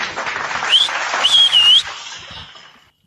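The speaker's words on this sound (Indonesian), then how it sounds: "Tepuk tangan lagi deh" A crowd at a religious talk applauds while sharp, rising whistles cut through the clapping in two bursts before the noise drops away and fades to near silence.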